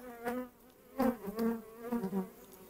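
Honey bees fly around an open hive during heavy foraging season, their buzzing wings droning close by in overlapping swells that rise and fade as individual bees pass near, fairly quiet overall.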